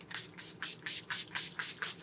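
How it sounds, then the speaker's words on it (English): A 16-hour makeup setting spray from a SpongeBob collaboration is misted onto a face in about nine quick, evenly spaced pump bursts, each a short close hiss. "spray my face with the 16-hour setting spray from the SpongeBob collab."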